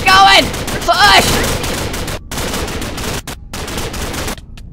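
Rapid gunshots crackle in a Minecraft zombie apocalypse battle, loud bursts of fire with excited shouting voices over the top at the start and a few brief silent gaps.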